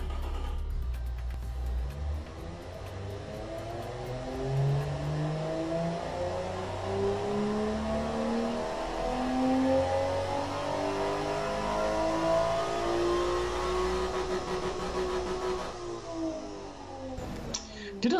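A 1995 European roadster engine in a video game revs steadily upward through the gears on a dyno, the pitch climbing repeatedly in a sustained, close whine, sounding strange near the limiter, before cutting off at the end.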